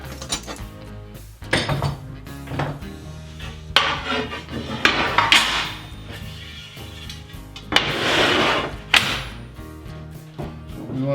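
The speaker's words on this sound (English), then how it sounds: "let's take the oil filter off to do that" Metal tools clank and scrape while the oil filter comes off a front-engine dragster engine, a string of irregular knocks and rattles that are close and fairly loud, with quieter handling noise between them.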